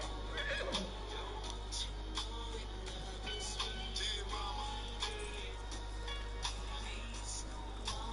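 Horse neighing and whinnying in a video game, repeated whinnies over a steady low hum with occasional hoof clops, moderately loud and close, no talk.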